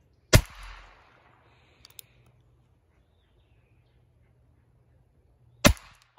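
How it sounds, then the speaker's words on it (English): Two sharp, loud gunshots from a Heritage Rough Rider revolver firing .22 short rounds at a target, one at the start and another about five seconds later, separated by near silence with a faint small click between. "So we're gonna go ahead and shoot a quick six shot group."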